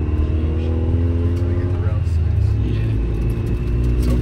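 Turbocharged 1995 Honda del Sol Si four-cylinder fitted with a new wastegate, a steady loud engine drone with deep low rumble and harmonic tones, running continuously with faint talk underneath.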